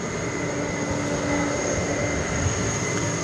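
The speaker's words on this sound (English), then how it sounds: "So off to Madrid goes that airplane." An airliner departs DFW Airport at night bound for Madrid, its engines a steady, distant broadband roar with a faint high whine, heard alone without talk.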